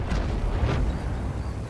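A tank gun fires in World of Tanks during a clan battle: two dull booms close together, followed by a low rumbling roar of engines and battlefield noise, with no talking.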